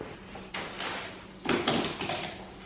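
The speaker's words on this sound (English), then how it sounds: "that is the sound of him coming through the door with my battered sausage and chips" A front door opens as someone comes in, with a couple of soft knocks and rustling thuds in a quiet home, fairly faint and without speech.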